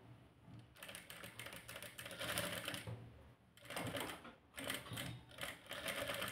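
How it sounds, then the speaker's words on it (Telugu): A sewing machine stitches around a round cut-work sleeve design in bursts of rapid, steady mechanical clatter, pausing briefly between runs; it is close and moderately loud, with no talking. "ఇలా నీట్గా రౌండ్గా దీని ఎమ్మటే కుట్టు వేసుకుంటూ రావాలి."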